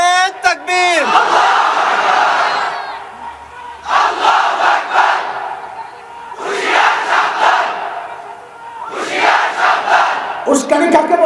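A large rally crowd roars a loud chanted takbir response in three long surging waves, each swell rising and fading, with a brief shout from a single voice opening the clip.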